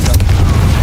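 A Confringo spell blast in Hogwarts Legacy: a short, dense boom with a heavy low rumble that fills the whole moment, loud and close.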